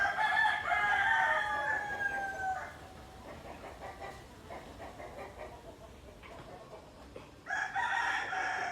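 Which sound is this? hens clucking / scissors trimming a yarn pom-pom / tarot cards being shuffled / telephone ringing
hens clucking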